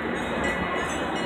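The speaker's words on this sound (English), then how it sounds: "Oh, look, there's a train right there." A train passes nearby in Kemah, a steady loud rumbling roar of rolling wheels and cars that holds level throughout the short stretch, with no talk over it.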